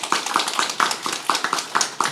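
Applause at a council debate on livestock manure treatment, heard as sharp, rhythmic claps in a steady pattern of roughly four per second, close and fairly loud with no talk over them.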